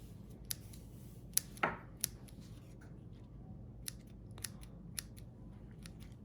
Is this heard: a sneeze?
no